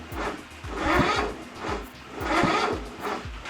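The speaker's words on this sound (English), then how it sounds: "It's just not cranking enough to go fast enough to fire." Engine of a Craftsman ZTS7500 mower cranking without starting: a slow, rhythmic starter churn in repeated surging cycles that never catch, close and fairly loud, with no talking.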